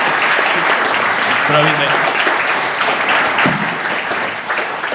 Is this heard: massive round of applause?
yes